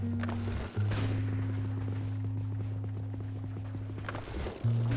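Horse hooves clip-clop at a steady walking rhythm in the medieval video game Knightfall, over a constant low drone from the game, with brief pauses near the start and end.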